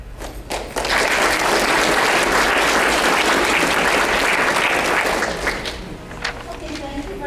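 An audience at a candidates forum breaks into sustained applause, a dense roar of many hands swelling suddenly and holding steady for several seconds before tapering, loud and full, with a voice emerging near the end.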